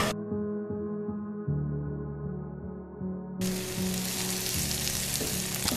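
Garlic sizzles and crackles steadily in a hot pan, a close, constant frying hiss that grows brighter and denser partway through.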